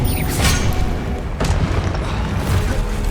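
Explosive blasts from the Confringo spell in Hogwarts Legacy, a dungeon fight producing several loud, booming bursts in quick succession with a sharp crack near the middle.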